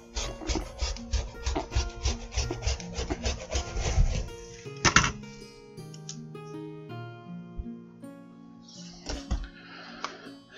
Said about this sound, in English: I can just go ahead and trim the unevenness off of the bottom here